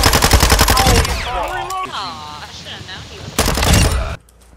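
Rapid gunfire bursts in Call of Duty MW2 hardcore team deathmatch, a loud rattling volley at the start, a quieter stretch with a player talking, then another sharp burst before cutting off.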